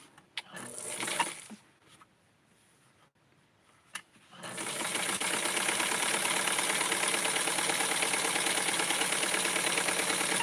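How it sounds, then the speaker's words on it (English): A serger sewing machine starts after a few quiet seconds of light handling clicks, then runs continuously at a steady fast whirring stitch rhythm, close and moderately loud, with no voices. "I'm going to do the serger right now"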